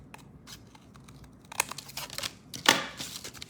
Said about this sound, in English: So I'm going to follow the line to cut the template.